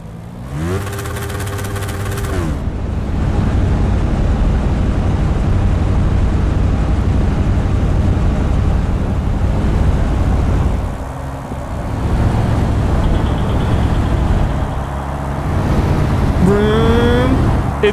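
A motorcycle engine in the video game Lanesplit roars loud and close, holding a steady high-revving drone for most of the stretch with brief dips where the throttle eases, then surging again.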